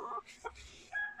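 A Sweater Hutch gamefowl rooster gives a couple of short, close clucks in a quiet setting, brief and moderately soft.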